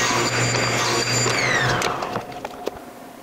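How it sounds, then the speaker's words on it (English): A table saw ripping wooden shelf braces to width: a loud, steady motor whine that drops in pitch as the blade winds down, followed by a few sharp knocks of wood being handled. "we're gonna rip down our 2 braces for the shelves down to 2 3/4, and we'll do that at the table saw"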